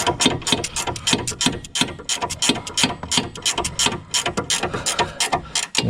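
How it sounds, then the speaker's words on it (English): Rapid ratcheting clicks from a wrench tightening a sway bar link nut on a Mazda 3's front suspension, a steady burst of back-and-forth ratchet strokes heard up close with no talking. "Get my wrench on there, wrench this one up."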